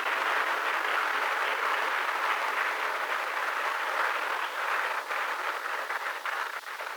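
Sustained audience applause from a crowd at a talk, steady dense clapping that stays loud for the full seven seconds with no voices over it.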